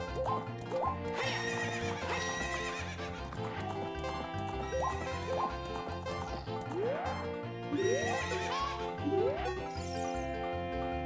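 A horse in the video game Zelda: Ocarina of Time whinnies several times, with rising neighs and clip-clop hoofbeats layered over steady, busy game music throughout.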